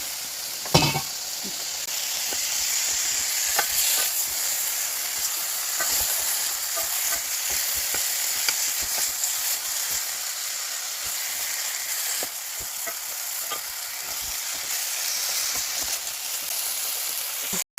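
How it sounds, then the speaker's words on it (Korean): Ingredients with garlic are stir-fried in a pan for Andong jjimdak, giving a continuous loud sizzle with repeated spatula scrapes and clicks throughout, close up, with no talking. "이렇게 해서 볶아주세요"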